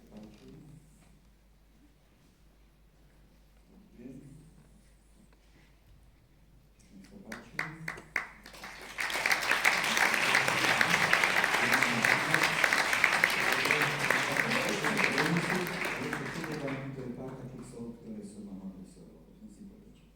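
An audience breaks into loud, sustained applause after quiet talk and a few scattered claps. The clapping swells, holds for several seconds and then gradually tapers off.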